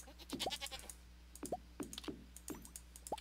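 Short rising goat bleats from Stardew Valley, several separate calls at about one-second intervals, faint but clear, mixed with quick keyboard clicks and no talking.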